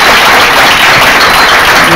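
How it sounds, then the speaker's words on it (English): A church congregation claps their hands loudly and continuously, a dense wash of applause close by with voices mixed in. "Y'all clap your hands, my wife."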